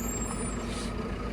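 A seed corn delivery lorry pulls up on a farm, its air brakes releasing a steady hiss over the low rumble of the heavy engine, fairly close and continuous.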